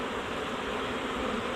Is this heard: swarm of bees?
yes